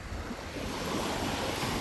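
Sea waves washing at the seashore, a continuous roar of surf with wind buffeting the microphone, rising slightly partway through, with no voices.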